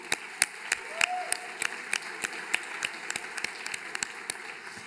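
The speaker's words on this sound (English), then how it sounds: "which I think needs applauding" Scattered audience applause at a Hollywood benefit evening for women's cancer research, a modest number of distinct claps spaced irregularly over a steady room hum, fairly sparse rather than a full ovation.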